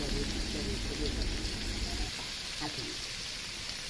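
Vegetables sizzling and frying in a pan in a home kitchen, a steady crackling hiss throughout at moderate level, with faint background noises but no clear talk.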